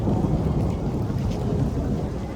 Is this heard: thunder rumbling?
yes